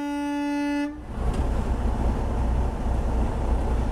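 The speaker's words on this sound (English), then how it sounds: "honking that horn probably all day long" A truck's air horn blares loud and steady for about a second, then cuts off, leaving heavy rumbling road and engine noise.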